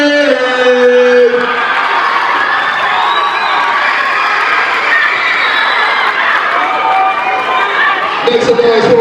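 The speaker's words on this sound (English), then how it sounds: "Make some noise for Jade!" A middle school crowd cheers and shouts loudly and continuously at a school event, children's voices whooping over a dense roar, with an announcer's voice briefly at the start and end.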